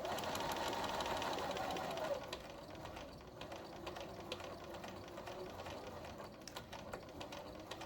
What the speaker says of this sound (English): I'm going to sew along one of the short sides using a 1/4 inch seam allowance